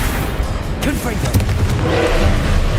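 A Confringo explosive spell blast in Hogwarts Legacy, heard as booming, crackling impacts within loud, busy combat noise, with a voice heard during it.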